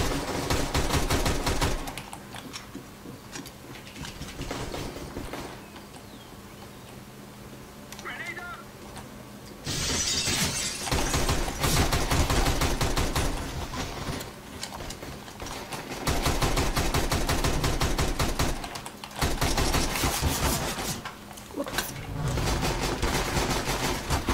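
Single gunshots fire one after another in CS:GO, sharp and loud amid busy game noise, with a voice talking over parts of the action.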